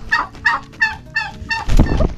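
Fowl, likely chickens or turkeys set to be slaughtered for a birthday feast, call in several rhythmic gobbling or clucking bursts, close and fairly loud, followed by a louder rustling, fluttering commotion at the end.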